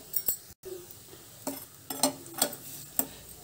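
A spoon stirs a shallow-fried potato fry seasoned with chili powder and salt, making repeated scraping knocks and light metallic clinks against the pan over a faint sizzle.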